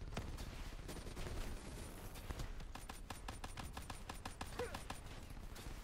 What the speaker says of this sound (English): Damn these mortars!